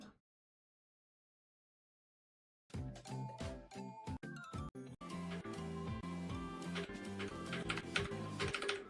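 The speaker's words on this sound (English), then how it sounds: "Why does it sound like you're slapping your keyboard?" Computer keyboard typed on hard and fast during a late-night vtuber chat stream, a dense run of loud clacking keystrokes starting after a few seconds of silence, with occasional faint chime-like tones mixed in.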